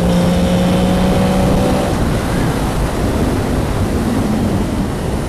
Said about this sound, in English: Oh, there's the VTEC.